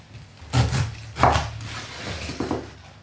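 A sharp knife cuts through food on a board in three distinct, close, heavy strokes, each landing with a dull thud, with quieter gaps between them.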